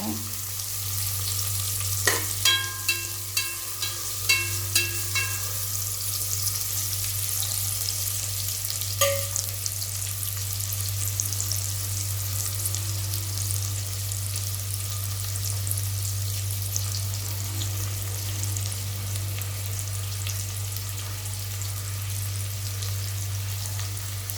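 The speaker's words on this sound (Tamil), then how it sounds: "நல்லா கோல்டன் கலரில் வதக்கிக்கோங்க" Onions sauté in hot oil for vegetable biryani, a steady close sizzle under a constant low hum, with a series of metallic spoon clinks against the pan early on as they are stirred.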